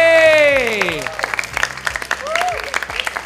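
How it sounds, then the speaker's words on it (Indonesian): Audience at a children's Bible game show applauds on cue, a burst of clapping rising after a voice speaks, then thinning into scattered claps with more talk. "Boleh kasih tepuk tangan sekali lagi."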